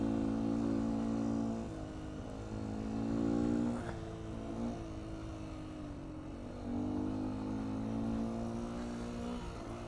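Small 125cc two-stroke engine of a 2019 Beta 125 RR-S dirt bike with a 13T sprocket, droning steadily while being ridden, its pitch swelling and dipping in gentle waves with throttle changes, close and continuous with no talk.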